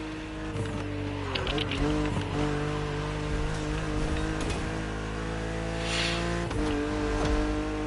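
A coupe cabriolet drives in The Crew Motorfest, its engine humming steadily with shifting tones and brief rev changes as it cruises, with faint background effects.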